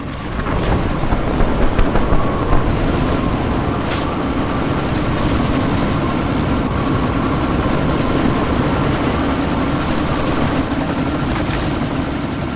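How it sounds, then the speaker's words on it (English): Helicopter in Deus Ex: Mankind Divided, its rotor a steady loud whir that fills the whole stretch with constant droning wash and no pauses. "Jensen, this sandstorm might have just bought us some time, but you need to disable that chopper."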